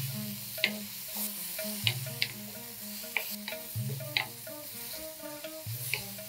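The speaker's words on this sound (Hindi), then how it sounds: "प्याज का कच्चापन चला जाए तब तक हमें फ्राई करना है।" Onions fry in a pan with a steady close sizzle, punctuated by periodic scraping stirs and light ticks of the utensil, and no one speaks.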